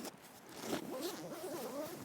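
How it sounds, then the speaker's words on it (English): A full heavy-duty YKK zip slides open on a DMM Flight Sport climbing rope bag that opens like a clamshell, a soft, steady rasping heard close and quiet for about two seconds. "with a full heavy-duty YKK zip"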